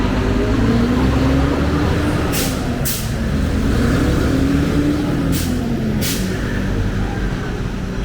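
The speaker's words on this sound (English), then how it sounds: "it is a little bit loud with the trucks coming through" Street traffic on a main road in a Medellín neighborhood, with a steady loud vehicle rumble, a tonal engine drone and two pairs of brief air-brake hisses as trucks pass close by.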